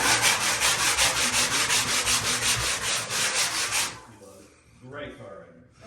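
A sanding sponge rubs back and forth over painted wainscoting in a fast, steady run of close, loud scratchy strokes that stops abruptly, leaving quieter handling noises.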